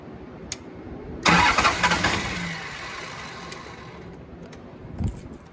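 Cold GM 6.5 turbo diesel in rough condition, cranking after the glow plugs cycle, then catching with a loud burst that settles into a rough idle, with a faint click or two before and after.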